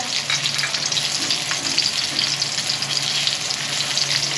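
Onions fry in hot cooking oil with a dense, continuous crackling sizzle, loud and near, with faint stirring scrapes and no talking.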